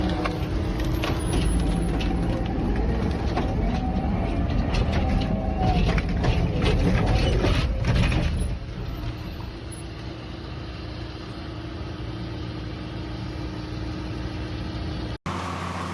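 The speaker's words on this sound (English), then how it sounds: "the Beaver Equipment 1200mm firewood processor is operating with tremendous force" A Beaver Equipment 1200mm firewood processor cuts and splits logs in an industrial yard, giving a loud, continuous mechanical grinding and rattling that eases to a steadier, lower machine hum partway through.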